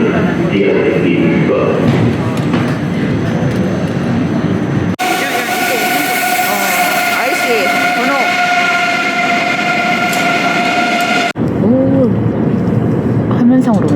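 Steady interior rumble of a moving train on a long-distance ride, with a constant hum and rail noise throughout, briefly cut into segments; faint talk and ambience over the running noise.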